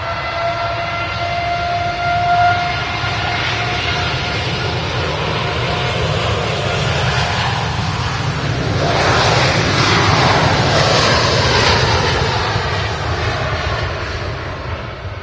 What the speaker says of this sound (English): But this TUI Dreamliner is now about to depart runway 2 here at Manchester Airport.